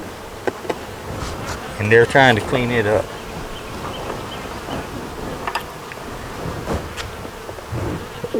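Honey bees hum steadily around an open hive frame during an inspection, a low continuous drone under a man's brief speech.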